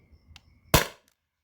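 A Beeman BP50 air pistol fires a single 7.6 gram steel ball outdoors: one sharp, close crack with a short decay after a few faint clicks, otherwise quiet.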